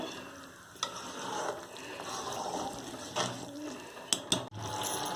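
Steady stirring and scraping of thick garlic gravy in a pan with a soft simmering sizzle underneath, a few sharper clinks of the spoon near the end.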